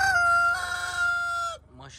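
A heavy Cochin chicken, about three kilos, gives one long sustained crowing call that breaks off, followed by a few short, softer clucking notes close by.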